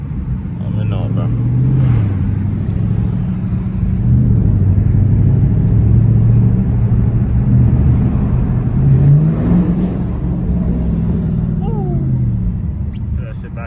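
Sports cars cruising through rain-soaked Houston streets, heard as a continuous close engine rumble with gentle rises in revs and road noise, steady throughout.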